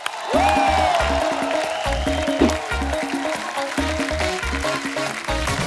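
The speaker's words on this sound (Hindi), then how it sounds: "जोरदार तालियां अनीस भाई के लिए" A studio audience claps warmly to welcome film director Anees Bazmee as a guest on a stage show, steady applause under loud, rhythmic music with a heavy beat.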